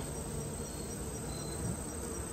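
Honey bees buzz around an open hive during queen replacement, a continuous close droning hum that holds steady without pause and with no voices.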